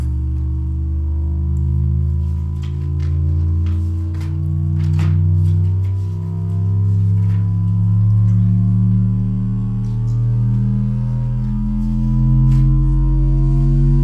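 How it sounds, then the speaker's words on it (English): A steady electronic sine tone glides smoothly in pitch, sweeping slowly through its range, with faint clicks and a low hum beneath. "So this is a sine wave."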